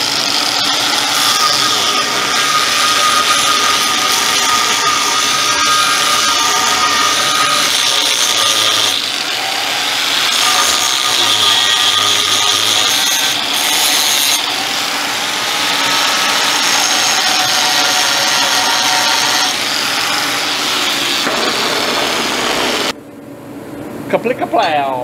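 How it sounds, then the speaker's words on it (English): A grinder cuts a steering spacer off a 1940 Chevy coupe, a loud, continuous, harsh whine that runs steadily for most of the clip before stopping abruptly near the end. "I'm going to grind this spacer off."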